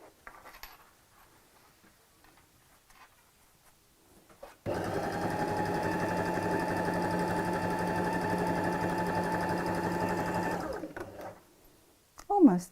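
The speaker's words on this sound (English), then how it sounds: "Sew over the top of the first stitch line." A sewing machine runs steadily for several seconds, stitching the layers of a fabric tote bag with pockets, going back over a first stitch line. It starts abruptly after a quiet stretch and stops just as abruptly, with brief handling noise around it.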